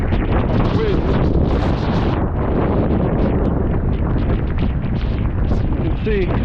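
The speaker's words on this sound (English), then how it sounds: "you can see the wind's pretty significant" Strong gusting wind from Tropical Storm Alex at Sunny Isles Beach, Florida, roaring and buffeting the microphone continuously, loud and close throughout with speech faintly underneath.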